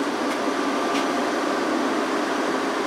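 Cooling fans of an MPP Solar PIP 4048MS inverter running under a heavy load of about 35 amps, giving off a steady, close, airy whoosh with no breaks.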